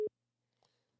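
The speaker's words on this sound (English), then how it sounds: "The phone got disconnected." A single short telephone tone beeps once as the call drops, followed by near silence with a faint murmur.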